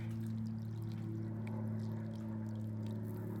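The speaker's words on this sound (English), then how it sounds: "pour some water in" Warm water pours steadily with a low, continuous gurgling rush that stays even throughout.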